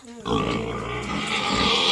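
A pig grunts loudly and continuously up close, a rough, throaty noise that swells and holds for a couple of seconds.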